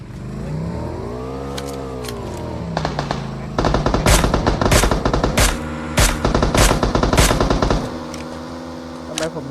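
Rapid automatic gunfire rattles in the PUBG Mobile video game in dense, loud bursts, following a rising and falling vehicle engine whine heard at the start.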